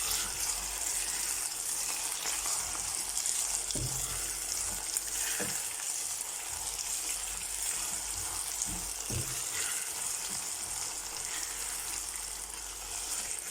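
Potatoes, salted early, frying in a pan give off a constant soft sizzle, broken now and then by a few clinks and stirring scrapes, with no talking.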